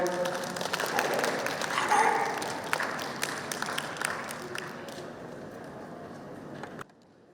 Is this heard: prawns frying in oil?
no